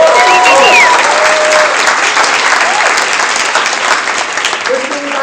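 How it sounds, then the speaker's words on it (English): A large crowd at a Miami business event claps loudly, dense continuous applause with a few whoops and shouts on top, gradually easing off. "Give them a round of applause."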